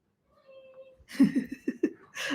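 A person imitates a cat's meow: a faint drawn-out mew, then a quick run of loud, close, yowling meow sounds.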